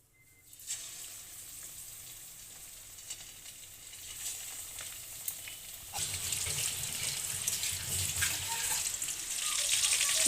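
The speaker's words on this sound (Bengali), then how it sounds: "আমি চিকেনটা ফ্রাই করে নেব" Marinated chicken for chicken 65 fries in hot oil in a kadai with a steady, crackling sizzle. It starts fairly quiet, then grows noticeably louder and busier about halfway through, with no talking.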